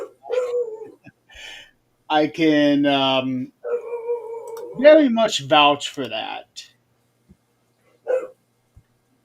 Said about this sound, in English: Holy cow, who's barking?